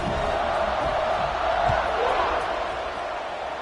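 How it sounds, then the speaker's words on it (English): Football stadium crowd buzzing after a score, a steady, dense roar of many voices filling the air without letup, with a faint thump partway through and no clear speech standing out. "this crowd is buzzing after that last score"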